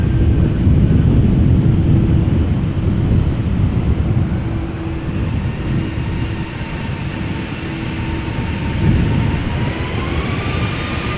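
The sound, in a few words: airliner engines at Amsterdam Schiphol Airport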